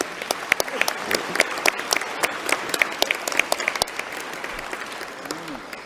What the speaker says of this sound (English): So I want everybody to give them a clap.